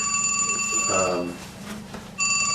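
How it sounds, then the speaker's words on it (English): A phone rings with steady, bright electronic tones, close and fairly loud, pausing briefly mid-clip before resuming, with a faint murmur beneath. "That's my phone. I'll ignore it."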